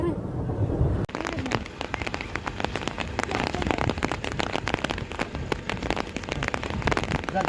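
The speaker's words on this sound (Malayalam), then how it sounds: "മഴ പെയ്യുന്നുണ്ട്" Steady, dense rain patters loudly and close by on surfaces in the Doodhpathri meadows of Kashmir, with faint voices in the background and no clear thunder.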